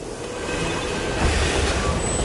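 Steady rumbling of a moving train in Borderlands 2, a dense continuous roar of wheels on rails with faint high squeals, no voices.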